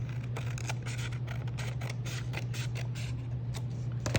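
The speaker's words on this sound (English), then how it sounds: "I'm gonna fold it in half like a triangle, cut that piece" Scissors snipping through a folded paper triangle, a run of quick, crisp cuts repeating steadily over a constant low hum, close and fairly quiet.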